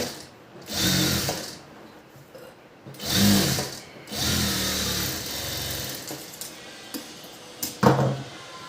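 A sewing machine runs a double seam in bursts of whirring stitching, starting and stopping several times with short pauses, close and fairly loud, and no one speaking.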